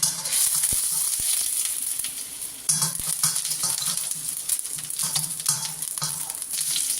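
Ginger sizzling in hot oil in a pan while noodles are being prepared, a loud, steady crackling hiss with a few sharp utensil taps and stirring scrapes throughout.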